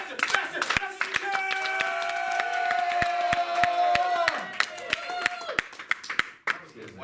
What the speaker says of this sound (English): That was the whitest clapping I've ever heard